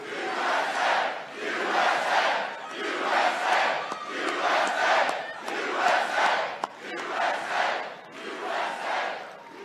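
A large crowd at a political rally in Lebanon, Ohio cheers and chants in loud, sustained waves that rise and fall across the whole stretch, with no speech over it.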